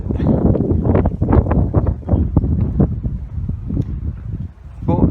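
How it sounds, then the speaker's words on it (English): Strong wind outdoors in Malta buffets the microphone in loud, gusty low rumbles that stay continuous throughout, with a voice faintly mixed in. "Wind."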